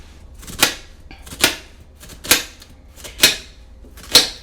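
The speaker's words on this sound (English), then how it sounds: "Okay, you're going to dice your onion kind of fine." A dull kitchen knife chops down through an onion on a cutting board in five evenly spaced, crisp knocks, close and clear with no talking.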